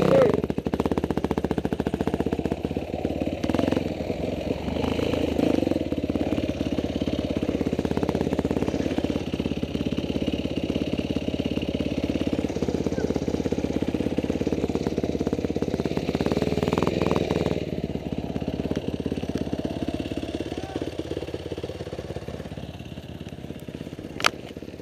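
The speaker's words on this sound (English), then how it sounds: "The bike's not gonna start." A trail motorcycle engine runs steadily at a low, rough idle outdoors on a trail ride. The drone continues throughout at moderate volume, with people talking over it.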